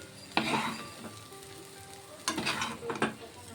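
A cooked vegetable curry is stirred in a pan, a low sizzle beneath a few distinct scraping and clattering strokes of the spoon, close and fairly quiet.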